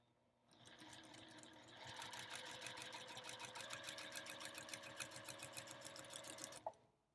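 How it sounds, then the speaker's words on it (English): Sewing machine stitching quilt binding from corner to corner, a steady rapid needle rhythm that ramps up and runs continuously for several seconds before stopping with a brief click. "we're going to sew from corner to corner"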